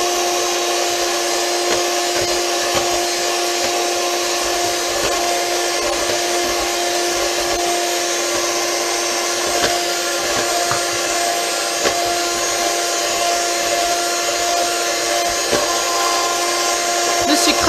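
An electric mixer whips cream with sugar into chantilly for a strawberry cake, a steady loud whirring buzz running continuously, close by with no pauses.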